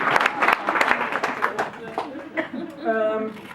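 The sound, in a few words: audience applause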